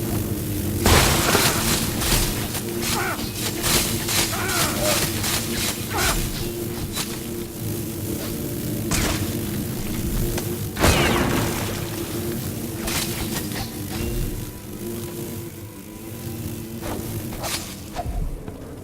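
Incendiary bombs burst in a Dishonored 2 fight: a steady run of loud booms, whooshes and fiery thuds over a rumbling background, with one especially heavy blast near the middle.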